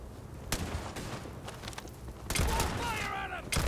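Gunfire from the video game Starfield: several sharp shots and bursts crack out amid shouting voices, with a heavy volley near the end, loud and close.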